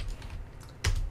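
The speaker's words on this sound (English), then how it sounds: "we're going to type in" Typing on a computer keyboard while entering code into Eclipse for a PowerBot script: quiet background at first, then a sharp, close cluster of keystrokes near the end.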